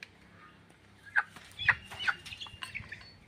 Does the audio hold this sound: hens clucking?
yes